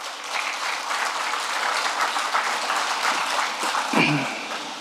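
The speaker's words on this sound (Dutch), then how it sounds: "Mag ik daarvoor alvast een applaus?" An audience applauds steadily at the official opening ceremony of an eye center in Suriname, dense even clapping that continues throughout.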